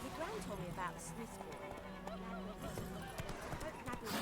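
A goose honks repeatedly in The Witcher 3 video game, several nasal honks close by over busy game ambience, with someone talking through parts of it.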